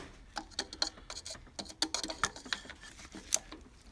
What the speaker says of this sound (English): So we're using a 13mm socket.